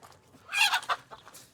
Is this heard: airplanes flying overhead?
no